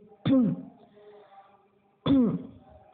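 A voice clears its throat twice, each a short guttural rasp with a pause of over a second between them, close and fairly loud.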